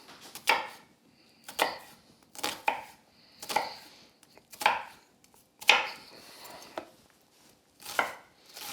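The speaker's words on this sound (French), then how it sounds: "Et voilà, vous avez vos petits morceaux d'oignon tout ciselés." A knife finely chops red onion on a board in quick bursts of crisp taps, each flurry followed by a short pause, recorded up close and quiet, with no talking.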